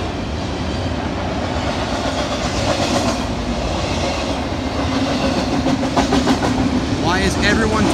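Norfolk Southern eastbound intermodal freight train led by locomotive NS 8101 in Central of Georgia heritage paint, passing close by with loud continuous rumble and clickety-clack of wheels over rail joints, with faint wheel squeal toward the end.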